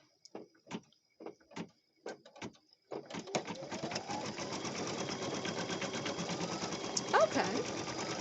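Baby Lock Flare embroidery machine starting a stitch-out: a few isolated clicks and knocks, then a continuous close, rhythmic mechanical whirr of rapid stitching that keeps running steadily.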